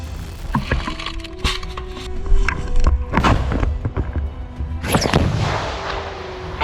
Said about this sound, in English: The exchange of fire lasted for several minutes